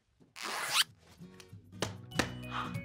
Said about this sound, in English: Now let's zip our adventure bag together.